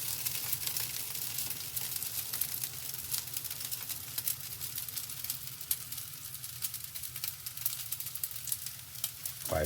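Garlic fried rice (sinangag), seasoned with a little salt, sizzles steadily in a hot pan, a close, continuous crackle with occasional sharper pops and no talking.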